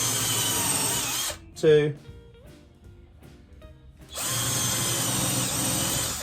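A power drill drives screws into radiator pine for a cigar box guitar, with long steady whirring bursts at the start and end and a man counting quietly in the pause between.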